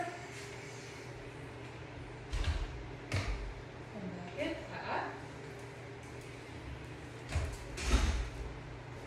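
A door is opened and closed during dog obedience training, with several soft knocks and thuds spread through the clip under a person's speech.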